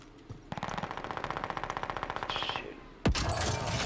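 Rapid automatic gunfire from a video game, a sustained burst of evenly spaced shots for about two and a half seconds, followed by a louder sharp crack and noisy aftermath.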